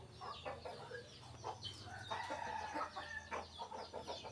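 Fighting cocks clucking and calling nearby, with several overlapping bursts over a steady background murmur.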